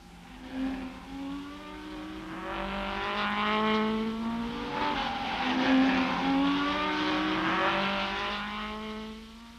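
Shelby Cobra and Ferrari race cars roar past during the 1964 Tour Auto, engines rising and falling in pitch as they accelerate, building to a loud passing howl before trailing off.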